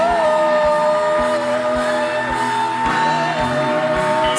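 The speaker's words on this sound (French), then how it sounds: "J'aimerais écouter les acclamations de la fin." Worshippers at the closing of a church retreat shout and whoop loudly as a crowd, over music with a steady, pulsing drumbeat, sustained for several seconds.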